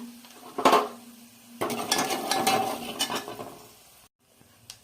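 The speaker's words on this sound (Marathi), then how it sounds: "आता आपण हे जे मसाले आहेत ते सगळे टाकूया आणि एकदा मिक्स करून घेऊया" Spices tipped into a hot pan for dal, with a clatter of a spoon against the metal followed by sizzling and scraping stirring, close and fairly loud, then dropping away to near quiet.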